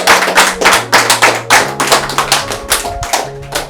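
A congregation claps in time to glorify God, a loud, even rhythm of sharp group claps about twice per second, with low sustained musical tones running underneath.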